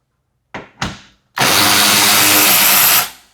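A power tool removes 10mm skid plate bolts on a Ford Bronco Sport: two brief close bursts of the tool, then a sustained loud whirring run of about a second and a half.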